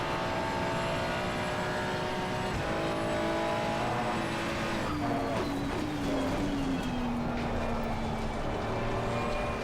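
A Ferrari race car engine in a racing simulator at Barcelona, droning steadily through the whole stretch with pitch sweeps as it shifts and brakes for corners, heard from the cockpit with no talk.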